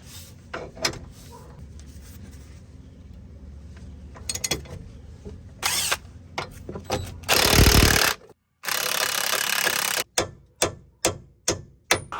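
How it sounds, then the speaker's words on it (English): Breaker bar and ratchet working a bolt on a Ford Focus front lower control arm, with irregular metallic clunks and grinding bursts, then a quick series of ratchet clicks near the end, close up, with no talking. "So now I can get a breaker bar on this and hopefully break this bolt loose."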